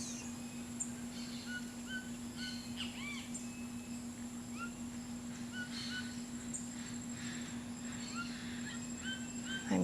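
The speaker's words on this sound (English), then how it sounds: "There are layers of different sounds in the distance of birds." Faint, distant jungle birds, such as macaws, parakeets and toucans, call in layered, repeated chirps and whistles over a steady insect drone and a low constant hum.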